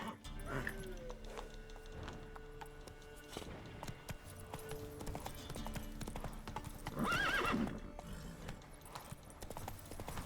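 The horse Roach clip-clops along in a video game, with steady, fairly faint hoofbeats and a brief neigh midway, quiet background sounds and no voices.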